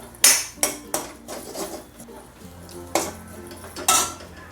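Grated coconut roasting in a pan for a Malvani horse gram curry, heard as sharp metallic clinks and scrapes of a spoon against the pan at irregular intervals over a faint sizzle, close by with no talk.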